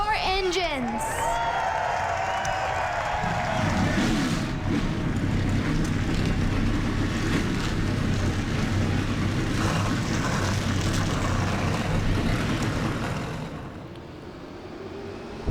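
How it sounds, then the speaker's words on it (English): Stock car engines roar to life in the NR2003 racing game at North Wilkesboro, a brief rising whine giving way to a loud, sustained rumble of 42 idling engines that fades slightly near the end. "42 cars come to life in Wilkes County, North Carolina, to do battle in the second-to-last race of the season."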